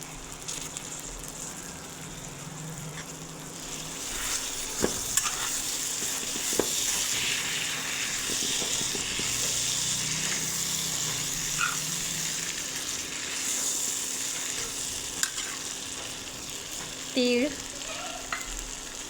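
Mixed vegetables for Bhogi bhaji frying in hot oil, a steady broad sizzle with scattered scrapes and clicks of a spoon stirring through them, close and fairly even, no voices.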